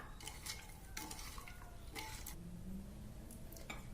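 A utensil stirs brown cane sugar into hot water in a bowl, producing faint, repeated scraping and clinking strokes in an uneven rhythm, quiet and close, with no voices.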